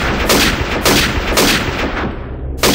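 Sniper rifle fire in the video game Sniper Elite 2: about four loud, booming shots a few beats apart, each ringing out with a long echoing tail, and no talking.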